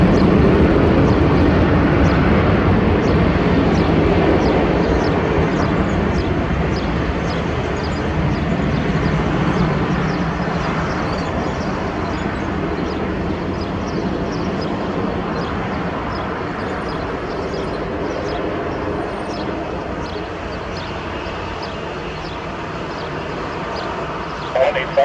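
A Caribbean Airlines Boeing 737-800 takes off at Toronto Pearson Airport, its jet engines a loud sustained roar that slowly fades with distance, with radio chatter partly heard beneath.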